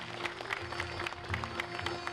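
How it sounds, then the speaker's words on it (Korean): An audience at a Korean commemorative ceremony applauds in a steady wash of clapping, with a sustained tone and low rumble running underneath. "큰 박수 부탁드립니다."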